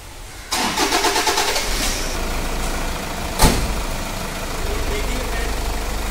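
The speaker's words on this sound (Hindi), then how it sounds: "सबसे पहले तो हम गाड़ी स्टार्ट करके आपको साउंड सुनाते हैं।" A Toyota Fortuner SUV's engine cranks and catches with a sudden start, then settles into a steady, even idle. One sharp knock cuts through midway, and a voice can be heard faintly.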